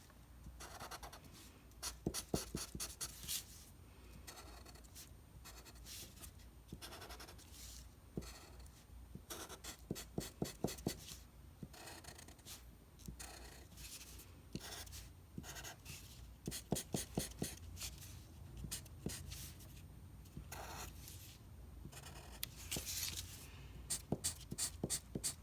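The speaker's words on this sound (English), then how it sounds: "all I'm doing is coloring in that bottom, that small square on the bottom right" A pen or marker scratches rapidly on paper while coloring in a small square of an op art boxes drawing, repeated quick back-and-forth bursts with short pauses, close and quiet.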